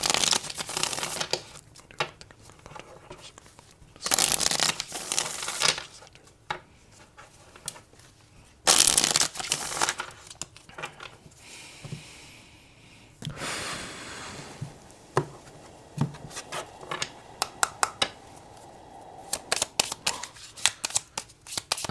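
Oracle cards are shuffled and drawn by hand, giving repeated close papery riffles, slides and crisp slaps in irregular bursts, with no talking.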